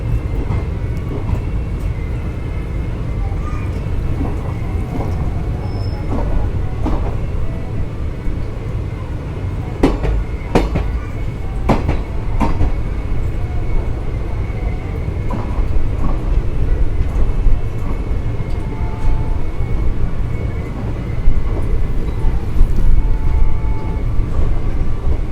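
The Jammu Tawi Jodhpur express rolls slowly through the large Lalgarh junction in the Rajasthan desert, with a steady rumble and rattle of carriages and occasional sharp wheel and rail clanks heard from inside.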